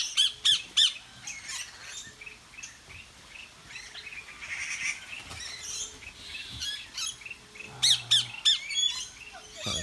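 A blue parrot at an ecological farm in Hsinchu, Taiwan, lets out sharp, shrill squawks in quick bursts near the start and again toward the end, with quieter bird chatter and ambient noise in between.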